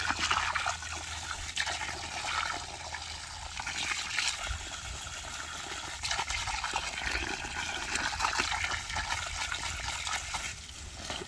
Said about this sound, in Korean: 지금 이 물로 쏘니까 고구마 뿌링이도 이 뿌리도 어디로 가는지 다 보이고